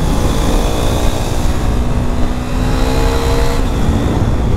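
KTM RC 390 motorcycle ridden on a short road run, its engine droning loudly and steadily with a rising tone as it accelerates and shifts up without the clutch.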